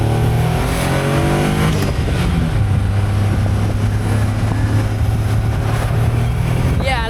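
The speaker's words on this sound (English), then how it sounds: "This has the 660cc 3-cylinder turbo engine" A Caterham 170S with a 660cc three-cylinder turbo engine pulls hard from inside the cockpit, a loud continuous drone rising in pitch, dropping at a shift, then climbing again, with wind roar throughout.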